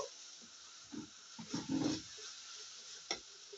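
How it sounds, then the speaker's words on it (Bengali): Chili powder is stirred into a hilsa fish head curry with taro leaves in a pan: a few soft close scraping strokes and a sharp clack of the utensil near the end, with no speech. "মরিচের গুঁড়োটা দিয়েও আমরা একটু নাড়াচাড়া করব।"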